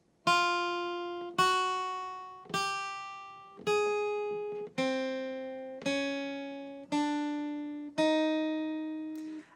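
A guitar plays a legato dexterity exercise, eight single notes picked one after another about a second apart, each ringing out and sustaining smoothly until the next, clear and close with no talking.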